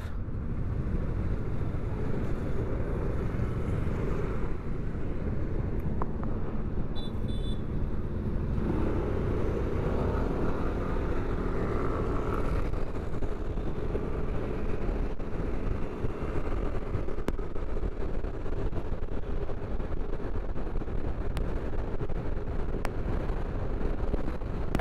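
Strong wind buffets the microphone with a constant low rumble and roar for the whole stretch, with no talking.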